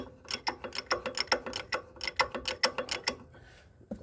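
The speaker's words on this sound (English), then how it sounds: "we're going to jack this thing up off the ground" Ratchet jack being pumped to lift a Case Ingersoll loader backhoe, giving a close, loud run of quick regular clicks that stops briefly near the end before one more click.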